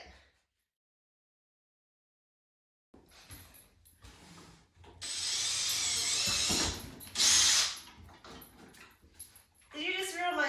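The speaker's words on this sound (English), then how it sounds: "As soon as that drill hits the void," A power drill bores through a plastic hula hoop pipe and its connector, starting after a silent stretch with bursts of loud, close whirring and grinding that stop and restart, with a dog and brief talk nearby.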